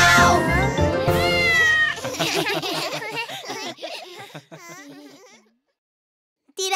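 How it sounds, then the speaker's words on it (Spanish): A cat meows in drawn-out, wailing cries within a children's bath-time song, loud up front and then fading into sung melody before a short silence. "¡Gatito pelirrojo! ¡Miau, miau, miau, miau!"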